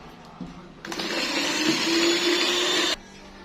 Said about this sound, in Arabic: هحط كوبايه الزيت وهضرب تاني